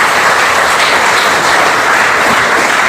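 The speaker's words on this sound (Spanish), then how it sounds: "Dele un aplauso al Señor esta mañana" A church congregation claps together during a Spanish-language service, a dense, steady wash of applause filling the room for a few seconds with no speech over it.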